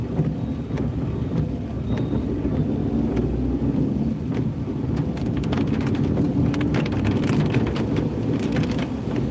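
Steady heavy rain pours down during a ride through rural Kerala countryside past a college bridge and banana plantation, a constant close hiss with rumbling low background and scattered drop impacts.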